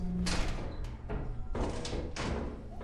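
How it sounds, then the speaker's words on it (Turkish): Door sounds in the horror co-op game Lethal Company: several heavy thuds and slams land in quick succession over a dense, noisy background, fairly loud and close, with no speech. "O kapı sesini duyduk"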